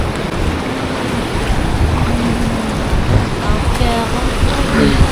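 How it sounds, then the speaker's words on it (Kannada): Heavy ocean waves roll in at Morjim Beach, Goa, as a loud, continuous wash of surf mixed with strong wind noise on the microphone. "ಹೆವಿ ಅಲೆಗಳು ಬರ್ತಾ ಇದ್ದಾವೆ."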